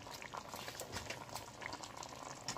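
Run dung curry fish simmering in coconut curry juice in a Jamaican-style pot, a steady close bubbling hiss of boiling liquid throughout with no talk.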